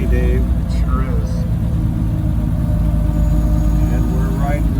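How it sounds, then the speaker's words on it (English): Steady low engine and road rumble inside a moving 1928 Hupmobile Victoria Opera Coupe, a vintage coach-built car, droning continuously with faint rattles while people talk over it. "And we're riding in a beautiful car."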